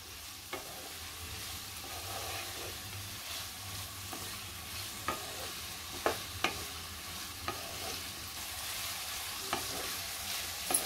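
Pineapple pieces being sautéed in ghee for sheera: a soft, steady sizzle with scattered clicks and scrapes of a spoon stirring in the pan, quiet and close, with no voices.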